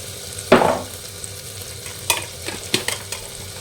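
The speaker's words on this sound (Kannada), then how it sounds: "ಸೊ ಇವಾಗ ಮಸಾಲ ಬಂದು ಸ್ಪೈಸಸ್ ಬಂದು ನಾನಿಲ್ಲಿ ಹಳದಿ ಪೌಡರನ್ನು ಹಾಕ್ತಿದ್ದೀನಿ." Spices and turmeric powder are stirred in a frying pan in a home kitchen: a loud scraping stir, then lighter clinks and scrapes of the spoon over a soft sizzle, with no talking.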